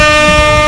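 A single loud, brassy air horn blast in a Roblox video game, sustained and close, briefly filling the whole moment.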